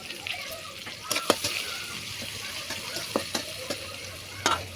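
Chopped onion, green chilli, bay leaf and cumin frying in oil with a pinch of sugar, a moderate sizzle broken by sharp scraping and stirring clicks, with a voice speaking over it.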